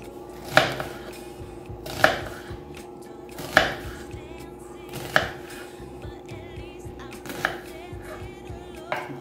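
A knife chopping an onion into small cubes for vinaigrette on a cutting board, with six evenly spaced sharp knocks, each about 1.5 seconds apart, close and clear over a low steady background hum.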